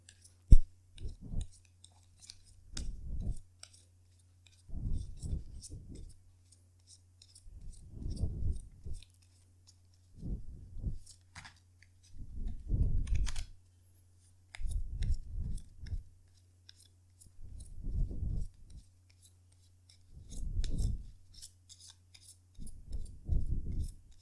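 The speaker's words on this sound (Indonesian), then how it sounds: "Jadi sebentar ya kartunya dikocok dulu sebelum kita mulai, oke?" Tarot cards being shuffled by hand in repeated short bursts of riffling and snapping, close and crisp, separated by brief pauses in a quiet room.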